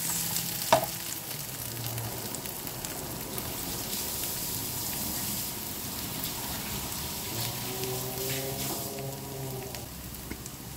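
Butter garlic squid is stirred in a hot frying pan, a steady low sizzle with occasional scraping and clacking of the utensil against the pan, heard alone at moderate level.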